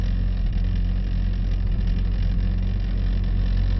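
A Mercedes E63 AMG engine on a skid pan, a steady, loud drone with a deep rumble, holding at low revs throughout with no other sounds on top.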